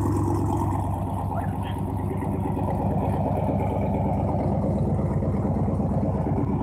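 A vehicle with a loud exhaust, around a 2015 model, rumbles steadily at an auction, a deep continuous throb heard fairly close.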